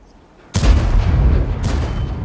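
A single loud tank cannon blast from the World of Tanks game fires after a brief quiet moment, then rumbles out into a long, sustained roar with a second burst of noise close behind it.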